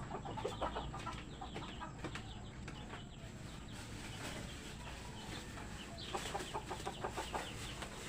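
Several Rhode Island chickens cluck and murmur nearby in a busy, irregular chorus, with occasional louder squawks over a steady background hum.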